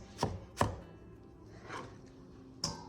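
A knife chopping vegetables on a board while making sesame ginger salmon, four sharp separate chops at an uneven pace, close and clear with no talk.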